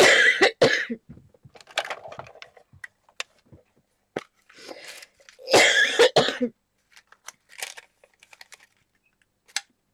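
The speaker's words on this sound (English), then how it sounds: "If I don't stop coughing, I'm going to have to go." Several bursts of coughing and throat clearing, close by, separated by quiet pauses and small clicks and handling noises.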